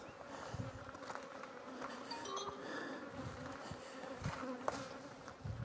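Honey bees buzz around an open hive during a beekeeping inspection, a continuous close swarm hum with individual bees droning past the ear.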